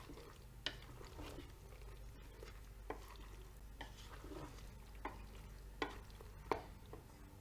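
A spoon stirs and scrapes beef with seasoning in a Cookeo multicooker, giving faint, scattered clinks and scrapes over a low sizzle and steady background hum.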